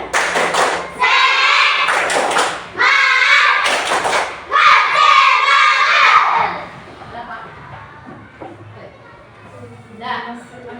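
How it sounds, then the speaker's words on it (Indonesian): Schoolchildren in a classroom perform a rhythmic spirit clap, loud bursts of unison clapping and chanted voices in several phrases, followed by quieter murmuring and a teacher's voice near the end. "kita coba dulu tepuk semangat"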